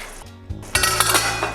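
A metal lid is lifted off a cooking pot of boiling banana leaf kuzhambu, a Tamil tamarind-style curry, giving a brief close clink of metal on metal followed by a louder burst of bubbling and steam.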